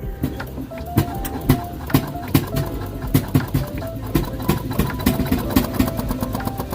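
Small rail speeder engine running, a steady close putter with regular knocking beats and a little high clatter, and a voice coming in faintly underneath.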